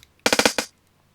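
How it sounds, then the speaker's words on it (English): A quick burst of five crisp electronic drum hits in a tight rolling fill, punchy and close, then silence. "electronic drum kits, two-step remix"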